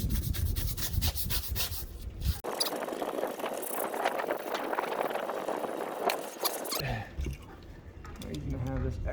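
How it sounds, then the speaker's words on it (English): A soft bristle brush scrubs a felt-backed TPO RV roof membrane in a steady, close rasping rub lasting several seconds, with talk before and after. "Go ahead and scrub this one more time."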